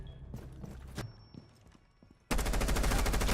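Rapid automatic fire from a low-recoil gun in Rainbow Six Siege, a dense, loud burst of shots bursting in after scattered quieter game effects and a steady faint tone.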